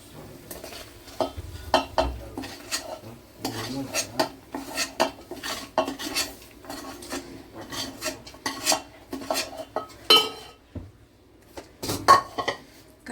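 A spoon stirs tempering into cooked rice for raw mango pulihora, scraping and clinking against a metal vessel in irregular close strokes with a soft sizzle underneath and no talking.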